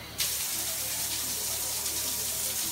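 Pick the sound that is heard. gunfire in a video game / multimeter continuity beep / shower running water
shower running water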